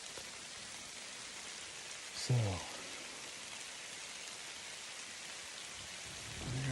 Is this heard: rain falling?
yes